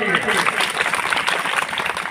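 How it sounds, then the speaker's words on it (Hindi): A crowd at a political party gathering of the Azad Samaj Party in Hardoi applauds, dense continuous clapping filling the space loudly and steadily throughout. "तो मैं चाहूंगा एक बार सभी के लिए जोरदार तालियां होनी चाहिए"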